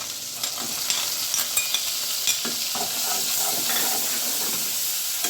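Shrimp coated in salt and turmeric frying in hot oil, a steady close hiss and crackle with scattered sharp pops and a few stirring scrapes throughout.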